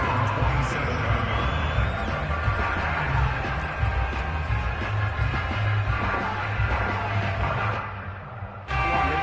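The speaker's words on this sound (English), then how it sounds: "this crowd has certainly liked what they've seen" A football stadium crowd at a Bengals vs Rams game keeps up a steady, dense roar of cheering and chatter, loud and continuous, easing slightly near the end before surging back.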